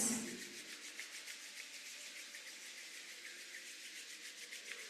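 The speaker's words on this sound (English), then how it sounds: "Gently just rub your hands, rub your palms." Soft, close rubbing of palms together during a yoga class, a gentle rhythmic swishing that continues steadily after a brief louder start, quiet and alone.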